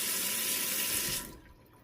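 A faucet runs with a steady, close, hissing splash of water, then cuts off sharply, leaving quiet, and nobody talks.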